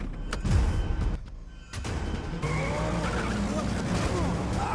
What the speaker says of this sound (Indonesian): Jun malah memutuskan untuk menabrakkan mobilnya ke arah Teddy